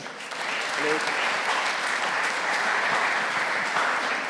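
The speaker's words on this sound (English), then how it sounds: "Please, a hard and welcoming applause for Mr. Bob van Cleemputte." A conference audience breaks into steady, full applause for a speaker at a museum talk, dense clapping that fills the room from start to finish with little change in level.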